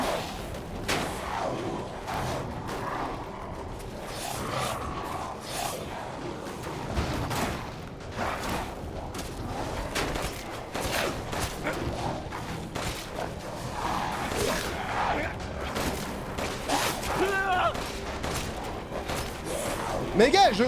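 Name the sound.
gunfire in the video game Resident Evil 8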